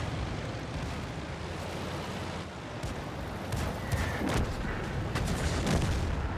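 Artillery fire in a video game: a continuous rumbling barrage of booms and blasts, with several sharper distant explosions rising out of the dense noise near the end.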